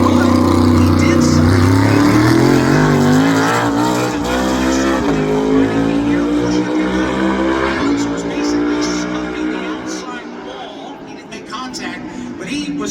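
NASCAR stock car driving onto pit road during a pit crew challenge at North Wilkesboro Speedway, a loud steady engine drone with shifting pitch lasting throughout, mixed under continuous commentary talk.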